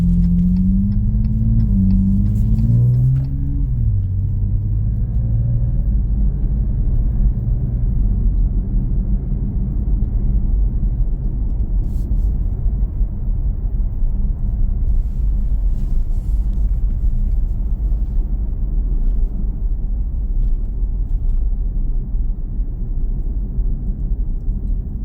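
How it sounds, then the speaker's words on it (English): Interior road noise from a 2026 Dodge Charger Sixpack while driving, a steady low rumble of tyres and engine that holds at the same level throughout, with a brief higher engine tone at the start. "One of the other nice things about these Charger Scatpacks is a very quiet interior ride."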